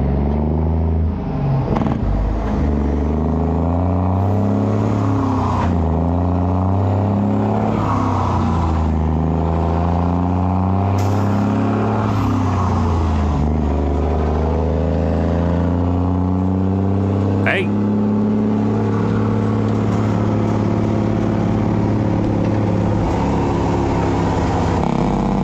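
Restored truck driven around the block, its engine rumbling and revving in repeated rising and falling surges, heard from on board and loud, with a voice talking over it at times.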